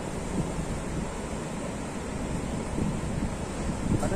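Ocean surf washes continuously onto a beach at Pacitan on Indonesia's southern coast, a steady roar of breaking waves mixed with wind buffeting the microphone.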